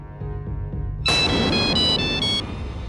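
A loud electronic phone ringtone suddenly starts, a bright repeating melody playing over a low background hum.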